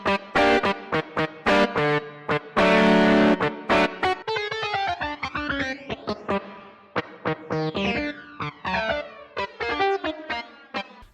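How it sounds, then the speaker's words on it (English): A guitar run through a VST effects plugin preset with heavy reverb, dense plucked and strummed notes washing into long echoing tails, loud and continuous with no talking. "This one has a lot more reverb."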